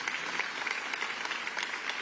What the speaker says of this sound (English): Ashley gets a round of applause as well.